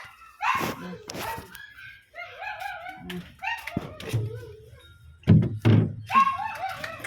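A dog whimpers and yips in short, high bursts, nearby, mixed with a few dull thumps and soft barks.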